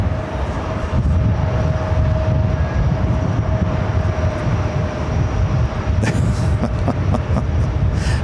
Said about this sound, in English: An A321 Neo now rolling down runway 13 right.